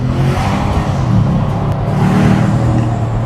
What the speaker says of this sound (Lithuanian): Galima išgirsti tą V8 garsą.